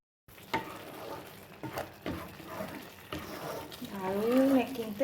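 Ghee is spooned into a hot pan for shahi paneer and sizzles softly. Stirring scrapes and clinks come in short bursts, and someone talks over it.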